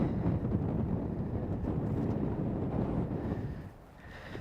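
Wind gusting across a Scottish links golf course, a steady broad roar buffeting the microphone, dipping briefly near the end before picking up again.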